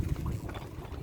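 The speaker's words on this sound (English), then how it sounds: "And the wind is just doing its thing." Wind buffeting a boat on the water near the Bay of Saint-Pierre in Martinique, a continuous low rumbling roar with gusty fluctuations and faint watery wash underneath, no speech.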